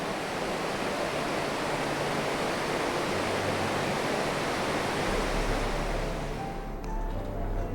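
A dense, steady roar of about 85,000 liters a second of water pouring over a waterfall fills the whole stretch, constant and powerful with no letup.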